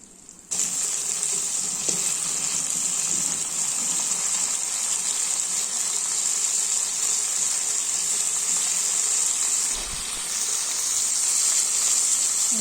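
Shallots and tomatoes sizzle in a hot pan with salt, a steady, even frying hiss that runs close and unbroken for the whole stretch with no voices.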